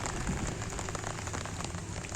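Light drizzle pattering steadily over a paddy field, a soft continuous patter of small drops with no voices.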